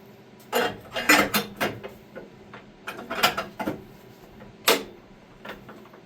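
Hand cranking a 1950s mini dozer engine with a magneto gives bursts of metallic ratcheting clanks and snaps, close and uneven, in several separate pulls with quiet gaps between.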